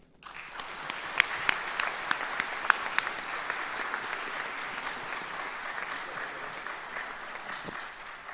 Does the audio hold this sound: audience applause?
yes